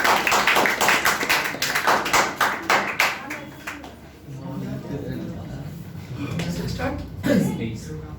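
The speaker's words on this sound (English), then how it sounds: "clap for Mayank" An audience at a public speaking session claps loudly and steadily for several seconds, the applause fading as a voice begins speaking over the room.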